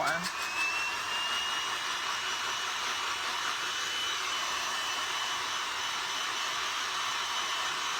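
A hair dryer blows on a Dollar Tree DIY craft piece, a steady, loud broadband whoosh running the whole time with no pauses.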